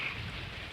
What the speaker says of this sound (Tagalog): Ipakita ko sa inyo yung ulan dito sa labas